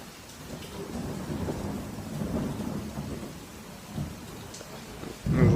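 Heavy rain roars steadily during a thunderstorm that has knocked out the power, with low rolling thunder rising and fading through the downpour and a louder rumble swelling at the end.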